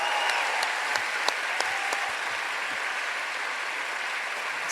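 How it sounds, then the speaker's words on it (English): A live podcast audience in Los Angeles claps in a warm, continuous round of applause, a few sharper individual claps standing out early before the sound settles into an even wash. "can we have a round of applause for our friend?"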